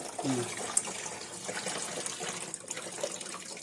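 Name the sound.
washing rice in water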